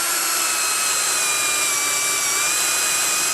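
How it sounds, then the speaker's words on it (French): A cordless drill spinning a wire brush to strip flaking paint from the rear brake calipers of a Porsche 911 gives a steady, loud high-pitched whir with a constant tone, running alone for about three seconds. "je vais chercher la visseuse avec la brosse dessus et je vais venir décaper mes étriers"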